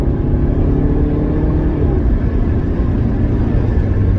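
Engine of a Rover 416SLi automatic revving up to about 4,000 RPM, a loud, close, steady droning rumble with a rising tone and no talk over it.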